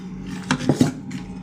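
A utensil mashes cooked carrot dal inside a pressure cooker, giving a few quick scraping clinks of metal on metal over a low steady background hum, close by with no speech.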